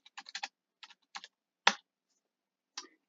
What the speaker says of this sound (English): But if we type in examine fish,